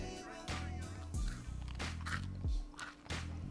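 Several crisp bites into a crunchy homemade chocolate chip cookie made with cornstarch, close-up crunches at roughly regular intervals, each followed by brief chewing, with no talking.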